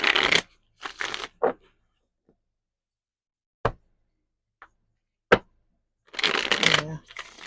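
A deck of tarot cards is shuffled and handled in short separate bursts, crisp riffling and flicks with quiet taps between them, close to the microphone, with no talking.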